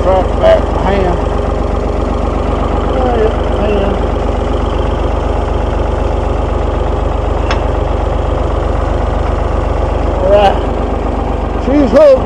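A tractor engine idles loudly and close by on a ranch, a steady low rumble running unbroken throughout with a few faint clanks on top.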